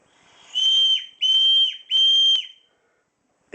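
A survival whistle improvised from a can is blown by mouth in three loud, shrill blasts, each about half a second long, with short gaps between them before silence.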